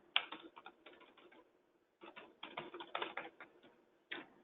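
Fingers type on a computer keyboard in quick, uneven bursts of clicks separated by short pauses, close and fairly quiet with no talking.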